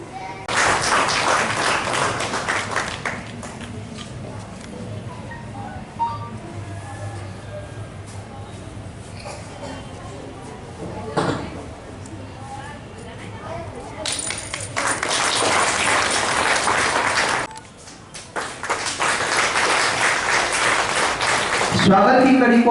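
An audience claps during the welcome ceremony at a World Disability Day sports competition in Nagda. Dense applause opens the scene, gives way to an announcer speaking, then returns in two long, loud bursts near the end.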